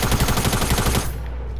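Fortnite video game gunfire, a loud rapid burst of automatic shots in quick succession for about a second, then cutting off to a low background hum.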